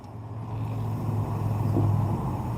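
A car passing by outdoors, a low engine hum that swells gradually and stays fairly near, steady over a few seconds with no talk.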